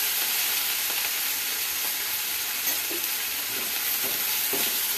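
Ginger paste fries in a hot pan, a steady, close, broadband sizzle with occasional stirring scrapes throughout.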